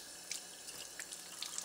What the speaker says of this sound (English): to clean the filter, we simply run it under water from both ends